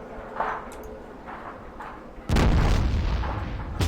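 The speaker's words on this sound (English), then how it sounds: "use a grenade to mangle his face" A grenade blasts in the tactical game Fallout Tactics, a sudden loud, deep boom with a rumbling tail that follows a few seconds of quieter, scattered background sounds.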